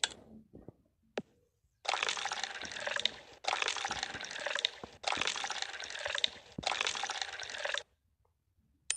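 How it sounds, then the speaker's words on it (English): Four cartoonish pouring bursts, each over a second long, sound as milk is poured into a bowl in a kids' pasta-cooking game. They come in an even rhythm after a few small clicks, with quiet gaps between. "Pour milk into bowl."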